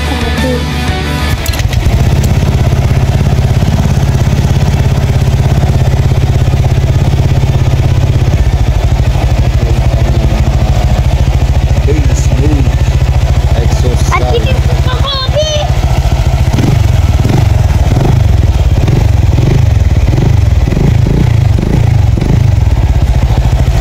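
A motorcycle fitted with an EXOS RX-7 Silent Killer exhaust pipe idles loudly up close with a steady deep drone, then blips and revs in a series of short bursts toward the end.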